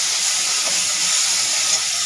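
Onion dropped into hot oil with a bay leaf and dried chilli gives a loud, steady hiss and sizzle, close and unbroken for about two seconds.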